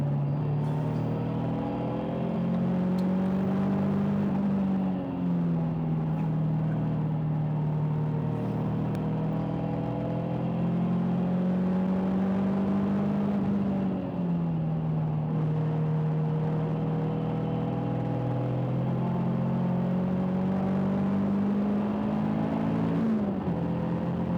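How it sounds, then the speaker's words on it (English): Caterham 340R sports car driven hard, its engine note rising and falling steadily through gear changes at close range, loud and continuous with no talking. "There's just something so good, so wholesome about driving the Caterham fast."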